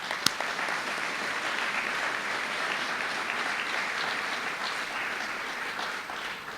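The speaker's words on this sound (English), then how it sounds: "So let's give the division a round of applause as well." Audience applause in a university auditorium during a 2012 opening day address, a steady dense wash of clapping from a large crowd that holds evenly for several seconds and fades slightly at the end.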